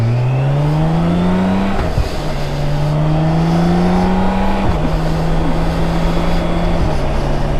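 A Honda Gold Wing motorcycle engine revs loudly and close, its pitch climbing repeatedly through several gear changes, with a brief dip at each shift and no voices.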